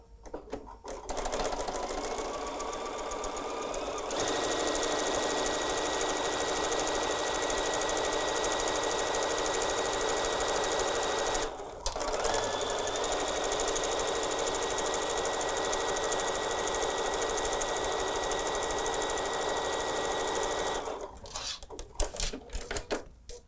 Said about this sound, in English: Let's go sew our 1/4 inch seam allowance on either side.